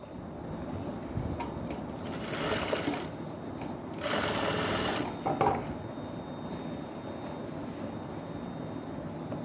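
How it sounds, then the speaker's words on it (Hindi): A sewing machine stitches a belt blouse in short whirring bursts, two louder runs of rapid needle chatter separated by pauses, close and fairly quiet with a faint steady hum. "और ये जो सिलाई मैं लगा रहा हूँ"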